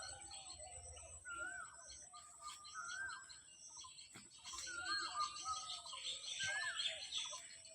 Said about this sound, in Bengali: এবার কোকিল ডাকছে।